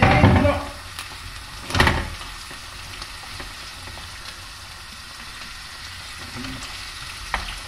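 Rigatoni with sausage and zucchini tossed in a hot pan, giving a steady close sizzle with a loud scraping toss near the start and another around two seconds in, then a softer frying hiss.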